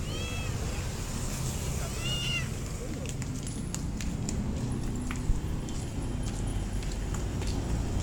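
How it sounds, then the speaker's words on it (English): Caged cats meow on a Manila street, a few repeated cries near the start over steady traffic and city hum, fairly close but partly masked by the background. "so a bunch of cats in cages."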